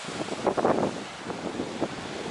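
Ocean waves crash below the Songaksan cliffs on the Jeju coast, heard as a few washing surges of surf buried in strong wind buffeting against the microphone.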